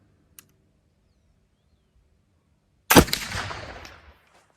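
A black powder flintlock rifle fires a single shot loaded with a cotton bedsheet patch: a faint click, a pause, then one loud, close boom with a long rumbling decay.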